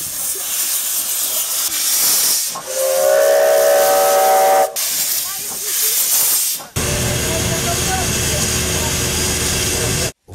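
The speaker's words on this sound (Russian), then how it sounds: "Возглавил поезд Победы настоящий паровоз серии «Р» из локомотивного депо «Волковыск»." The whistle of a Russian Class R steam locomotive sounds loud and sustained, with strong hissing steam around it and a brief pause before a steady mechanical hiss takes over.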